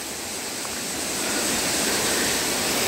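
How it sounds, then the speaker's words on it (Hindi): Patna waterfall in dense forest near Rishikesh on Neelkanth Road, a steady loud rush of falling water, broadband and unbroken, swelling slightly louder over a few seconds. "इसी घने जंगल के बीच में पटना वाटरफॉल है।"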